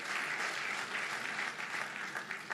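Audience applause at a senior officials' performance contracts signing ceremony, a dense, steady burst of many hands clapping from a sizeable crowd, continuous for a few seconds with no speech over it.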